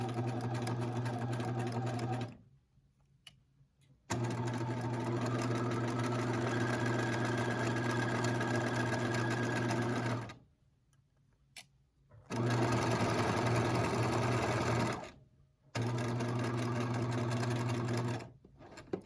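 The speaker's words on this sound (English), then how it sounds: "I'm going to sew all the way around and weave back up with that." A sewing machine stitches fabric in three long steady runs, each a loud, even mechanical whir broken by short pauses of near silence.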